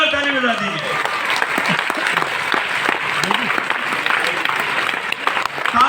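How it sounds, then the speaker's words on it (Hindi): A seminar audience claps loudly and continuously, dense applause filling the room along with music and a voice speaking over it. "एक बार जोरदार ताली म्यूजिक के साथ, जोरदार ताली बजा दीजिए"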